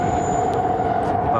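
A train rolls past steadily throughout, a continuous loud rumble with a sustained high whine, heard close up next to the tracks while a racing drone flies between the trains.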